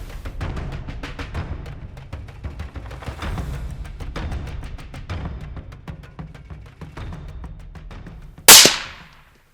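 A rifle shot cracks out once near the end, sharp and loud with a quick decaying tail, after a stretch of soft clicks and rustling during a plains game hunt in South Africa.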